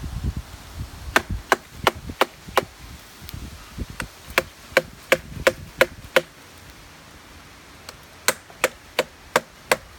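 A Buck hatchet chops into an old, dead, hard cottonwood limb with a run of sharp, close wooden thunks, some quick and evenly spaced and others pausing before another burst of strikes.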